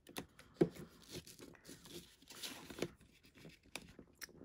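Paper being folded into a small Halloween fingernail file holder: faint crinkles, rustles and light tearing-like scrapes, soft and close, with no talking.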